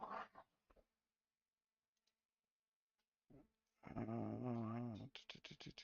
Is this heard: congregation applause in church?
no